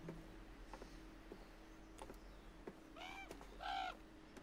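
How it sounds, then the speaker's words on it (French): Crow cawing in the video game The Quarry, a few harsh calls clustered near the end over a low ambient hum with faint ticks. "Oh, il y a un corbeau là."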